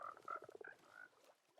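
Frogs croak in a Minecraft world, regular and desert variants together, giving a quick run of bright, repeated croaks at moderate loudness with no talking.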